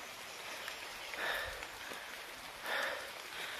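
Steady rain falls around a small hut among coconut trees, a continuous close hiss of drops that swells briefly twice.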